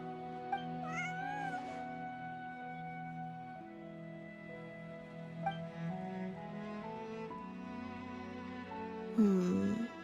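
A cat meows in Genshin Impact over steady synthetic background music, with a louder, drawn-out meow near the end; no talking.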